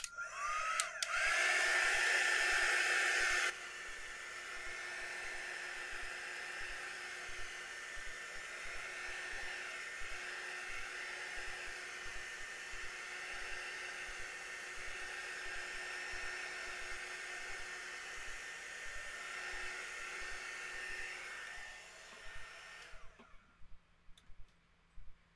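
A hair dryer blows on a watercolor painting, switching on with a louder blast for a few seconds, then running at a steady whirring hum for about twenty seconds before shutting off.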